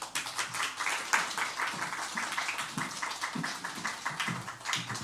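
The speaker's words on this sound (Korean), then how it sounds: "목사님 나오실 때 우리 환영의 박수 해주시겠습니다" Congregation claps in welcome as a pastor comes forward at a Korean church service: a fairly faint, steady patter of many hands with a rhythmic pulse running throughout, lightly reverberant in the hall.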